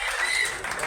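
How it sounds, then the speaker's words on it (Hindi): An audience at an evening devotional gathering breaks into loud, dense applause that fills the whole brief moment. "एक बार जोरदार इनके लिए तालियां बजा दीजिए।"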